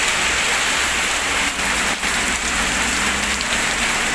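Heavy rain pours down steadily in Al Ahsa, Saudi Arabia, a dense, loud hiss of water on surfaces with no break throughout.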